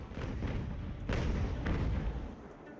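Cannon fire from sailing warships in the naval battle game Ultimate Admiral: Age of Sail, a ragged volley of deep booms and thuds overlapping across a few seconds, moderately loud with no speech.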